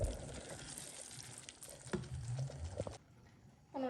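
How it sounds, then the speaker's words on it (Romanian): Water splashes and trickles over rice being washed in a pot for a few seconds, close and fairly quiet, then cuts off abruptly, with a faint clink at the end. "să pun apă puțin, să spăl repede orezul"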